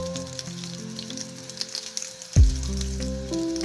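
Green chilies hit hot oil for a tempering for lauki raita, bursting into a sudden sizzle midway after a stretch of quieter background tones, then settling into a steady close fizz.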